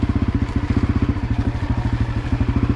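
Honda CRF250F dirt bike engine running steadily at a low idle-like pace, a loud, close, rapid even thumping pulse throughout with no talk.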